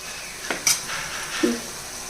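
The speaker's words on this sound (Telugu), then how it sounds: "ఇదిగోండి ఉల్లిపాయలు చక్కగా వేగాలన్నమాట" Onions with curry leaves fry in a pan, giving a steady soft sizzle with a few brief clinks and scrapes of stirring, near and fairly quiet, with no talk.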